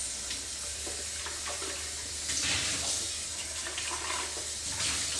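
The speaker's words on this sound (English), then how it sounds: "I'm gonna rinse the Vitamix." Tap water pours steadily in a home kitchen sink to rinse out a Vitamix blender, a constant hissing splash that swells slightly partway through, with no talking.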